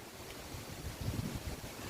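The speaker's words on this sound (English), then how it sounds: "It's windy out here today." Wind blowing hard outdoors, buffeting the microphone with a continuous low rumbling roar that swells slightly midway through, with no voices.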